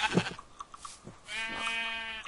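Sheep in Minecraft let out a few short bleats, then a longer wavering one, close and fairly quiet, with faint game sounds between them.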